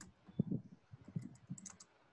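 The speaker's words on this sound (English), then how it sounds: "So I'm just typing." Typing on a computer keyboard, heard as a short run of close, quiet, irregular key clicks and taps with no one talking.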